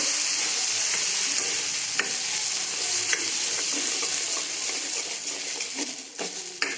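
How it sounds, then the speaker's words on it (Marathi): Tomato, potato and coconut gravy fries in a steel wok with a steady, close sizzle that runs throughout, broken by a few light clinks and scrapes of stirring. "ग्रेव्ही चांगली भाजून घेते स्टीलची कढई आहे"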